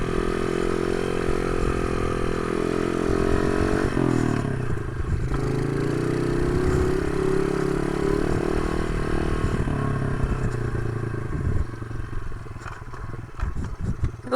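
A modified Honda pit bike engine runs with a bogging, rough idle, droning steadily with a few rises and dips in pitch, loud and close, with some metallic clatter and no talk.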